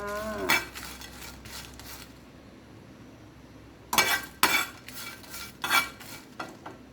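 Chilies are dry-roasted in a pan for chicken krapao, heard as metal utensil clinks and scrapes against the pan, first a few strikes, then a quiet stretch, then a cluster of sharp, close clatters.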